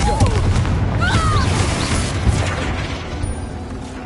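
A Confringo fire spell explodes in a Hogwarts Legacy battle, a dense booming blast over a continuous rumble of game combat that carries through the whole moment.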